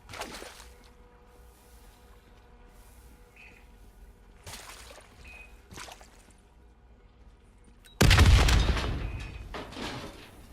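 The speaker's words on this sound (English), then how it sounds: "The explosion blocked our path." An explosion in Black Ops 3 bursts out loud and sudden near the end, following quieter in-game impacts and ambient noise, then decays into rumbling debris.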